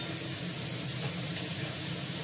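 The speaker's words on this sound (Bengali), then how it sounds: "এটাকে কালচে করে ভেজে নেবো সসটাকে, এটাকে কালার ধরে যাবে।" Tomato sauce with ginger paste fries in a pan, a steady close hiss and sizzle with faint stirring, no voices heard.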